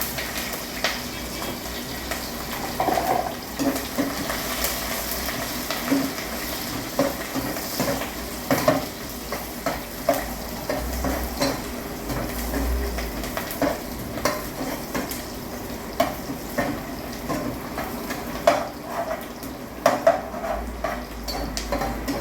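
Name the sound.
sautéing onions, spices, chili and garlic in a pan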